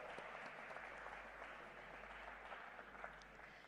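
Faint, distant applause from a conference audience at the Bio Asia summit, a steady soft wash of clapping heard through a low room hum, with no voices over it.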